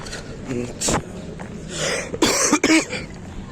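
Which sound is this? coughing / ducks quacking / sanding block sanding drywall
coughing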